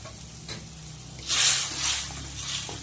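Cumin paste drops into a sizzling fish and potato curry, and the frying hiss swells loudly and then settles into a steady sizzle.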